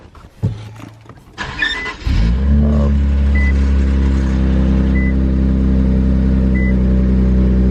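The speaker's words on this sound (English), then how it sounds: "let's start the car up." An Infiniti Q50 engine cranks and catches after a short starter whir, then settles into a loud, steady idle with a low rumble that continues to the end.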